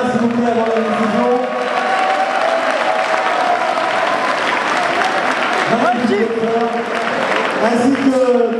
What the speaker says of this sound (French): Je voudrais un tonnerre d'applaudissements pour ce boxeur.